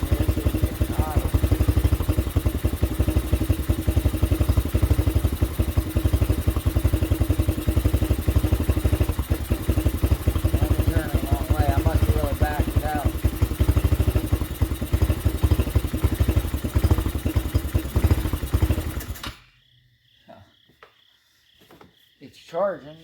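Pit bike engine idling during an idle screw adjustment, a loud, steady buzzing putter with rapid firing pulses that runs on for most of the stretch, then cuts off abruptly into near silence with faint clinks; someone talks.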